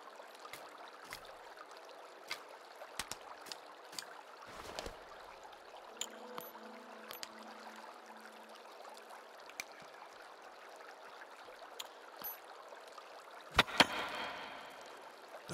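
In the Sons of the Forest video game, a character wades through a river, making intermittent sloshing splashes and drips over a quiet watery background, with a louder burst of splashing near the end.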